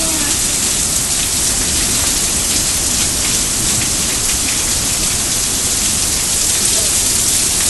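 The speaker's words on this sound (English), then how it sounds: "hear the thunder? That's raining." Steady heavy rain pours down during a thunderstorm, a loud, dense, unbroken hiss of drops close by with no pauses.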